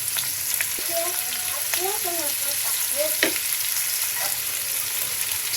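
Water lily (shapla) stems frying in a pan in a home kitchen: a steady soft sizzle with scattered light stirring clicks and faint scraping, no talk over it.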